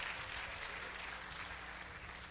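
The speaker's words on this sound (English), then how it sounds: "Help me clap for them." Faint, steady clapping from an audience at a university convocation lecture, honoring graduates, lasting a couple of seconds and heard at a distance.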